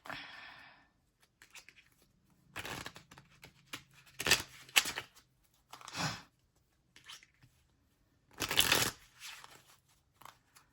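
An oracle card deck, the Modern Money Oracle, is shuffled in several short bursts of riffling cards, close and crisp, separated by quiet pauses.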